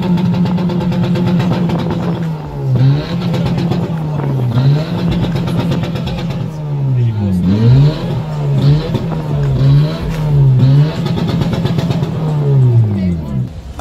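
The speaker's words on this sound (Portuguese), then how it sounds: "O difusor do carro, que dá aquele ronco," A remapped Honda Civic with an aftermarket rear diffuser revs its engine in repeated swells, the exhaust note rising and dipping loudly and close up for the whole stretch.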